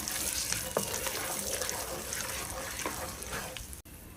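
Star anise and bay leaves fry in hot oil in a pan as a biryani base is started, a steady soft sizzle and crackle running throughout at low level.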